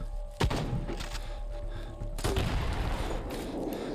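Gunfire in the zombie shooter game Into The Dead 2 comes as heavy thumping shots, one sharp blast early and then a dense, sustained barrage of rapid firing filling the rest.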